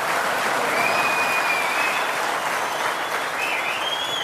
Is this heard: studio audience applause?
yes